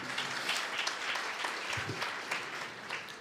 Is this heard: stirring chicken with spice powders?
no